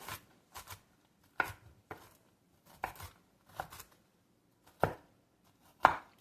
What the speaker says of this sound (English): so we're chopping pecans.